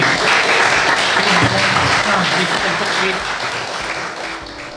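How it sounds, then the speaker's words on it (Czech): Loud, dense applause from a podcast audience, with a few voices calling out, gradually fading toward the end. "jeden potlesk si ještě zasloužíte"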